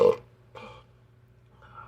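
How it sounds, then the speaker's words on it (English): A person lets out a short, close burp after drinking beer, followed by quiet breathing and a faint second rumble. "I had to burp."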